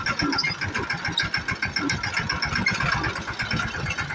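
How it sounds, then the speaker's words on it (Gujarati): A mini tractor engine runs close by with a steady, rhythmic low chugging pulse that stays loud and even throughout, with no talking. "હાલો તો ભાઈ ટ્રેક્ટરીને હવે આપણે અંદર રાખી દેવાની થાય."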